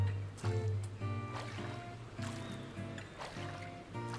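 A character swims through water in the Farmer's Life video game, with rhythmic sloshing strokes that repeat roughly every half second, close and fairly loud.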